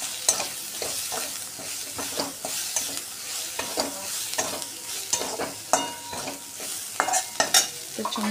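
Paneer with black pepper sautéing in a pan for paneer 65, a continuous close sizzle broken by frequent scraping stirs and spoon knocks in an uneven rhythm, with no speech.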